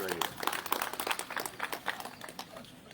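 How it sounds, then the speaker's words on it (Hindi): Audience applause rings out at a book launch ceremony, a dense patter of many hands clapping at moderate level while voices talk over it. "इनका हम स्वागत करते हैं तालियों से।"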